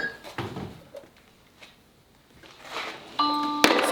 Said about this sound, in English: when somebody rings the doorbell, we get a notification on our phones